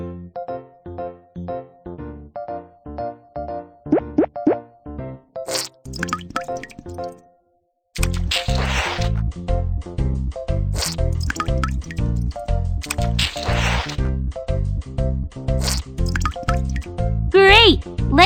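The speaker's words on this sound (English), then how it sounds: "Pour some water in the bottle." Water poured into a bottle in a children's cartoon about emergency water supply after an earthquake, heard as rhythmic dripping, plopping liquid sounds over bright background music, with a voice now and then.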